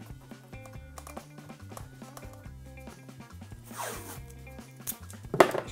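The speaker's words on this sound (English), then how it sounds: "continue with your masking tape just to temporary hold that there" Masking tape is pulled off the roll during a uPVC window trim installation, giving a close, ripping zip-like tear, with a sharper burst near the end.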